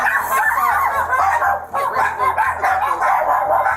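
Several dogs bark and yip excitedly inside a house during a police visit, a busy, loud, overlapping chorus with whimpers mixed in and no clear talk over it.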